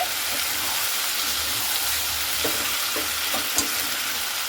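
Chicken pieces fry in their own released oil in an uncovered pan on raised gas heat, making a constant loud sizzle close by. Several brief scraping knocks of a spatula stirring the meat break through it, with no voices.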